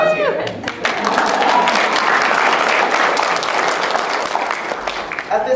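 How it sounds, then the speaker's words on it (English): An audience at a Cal State Long Beach nursing pinning ceremony breaks into loud, sustained clapping and cheering that fills the room, with a voice briefly heard at the start and end. "Insert applause here."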